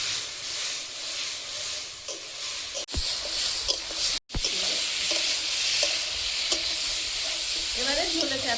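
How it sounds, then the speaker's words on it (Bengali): Tomato masala for masala paneer being stirred and fried in a pan, a steady loud sizzle with scraping stir strokes throughout and two brief dropouts partway through; no one speaks. "মশলাটা যেহেতু টমেটো আছে, কাঁচা গন্ধ চলে যাওয়া পর্যন্ত ভালোভাবে কষিয়ে নেব।"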